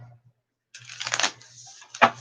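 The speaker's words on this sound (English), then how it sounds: "I'm loving shuffling this deck" A deck of oracle cards is shuffled by hand, a quiet riffling burst followed by a second sharper flurry of card slaps, close and alone.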